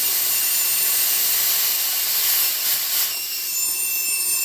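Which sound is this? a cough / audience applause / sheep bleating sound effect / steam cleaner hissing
steam cleaner hissing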